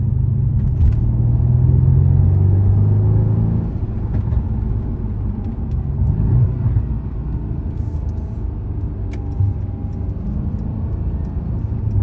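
A deep, rumbling Mercedes-AMG C63 S V8 exhaust with variable valves, loudest at first, then easing into a steady low drone with faint whirring on top.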